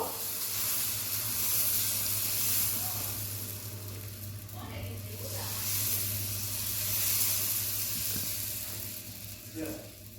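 Sprouted-bean dosa batter sizzles on a hot griddle: a steady, close hissing crackle that swells and eases slightly over a low background hum.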